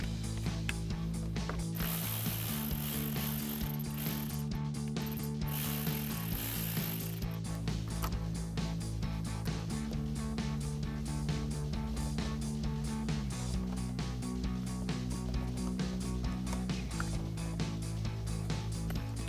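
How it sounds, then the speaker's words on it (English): A ratchet with a 10 mm socket loosens the battery terminals on a Toyota Tacoma, clicking in a close, continuous run of rapid pawl ticks with a faint background hum throughout. "Using a 10 millimeter socket, we can now loosen up our terminals so we can attach our wires"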